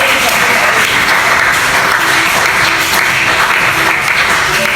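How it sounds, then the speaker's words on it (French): A church congregation applauding to acclaim the Lord, loud and close, with dense continuous clapping and some voices mixed in throughout. "On acclame le Seigneur"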